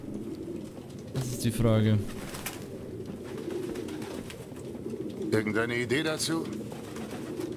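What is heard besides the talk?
pigeons cooing, from video game Detroit: Become Human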